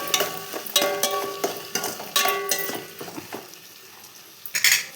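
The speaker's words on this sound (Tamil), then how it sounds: "தக்காளி போட்டுக்கோங்க. 4 தக்காளி எடுத்துருக்கேன். நல்லா வதக்கிக்கலாம்." Four tomatoes sautéed in a pan for vegetable rice, with a utensil repeatedly stirring and scraping against the metal in uneven strokes over a soft background sizzle. No one speaks.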